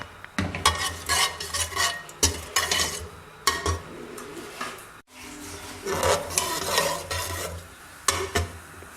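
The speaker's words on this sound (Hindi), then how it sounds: "अब इसमें 1 चम्मच ज़ीरा डाल देंगे। इसको इसके अंदर हल्का सा भूनेंगे।" Cumin seeds lightly frying in oil in a pan, with a spoon stirring and scraping in quick rhythmic strokes over a soft sizzle, close by, briefly pausing midway.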